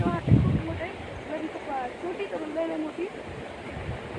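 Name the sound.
stream flowing full of water after rain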